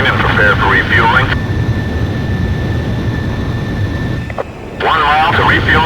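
A jet fighter engine roars in the Ace Combat Zero flight combat game, a loud continuous rumbling drone that holds steady throughout, with radio voices talking over it at the start and end.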